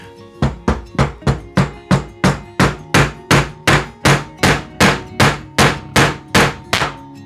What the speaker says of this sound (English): this one might need a little bit of hammering too just to get through there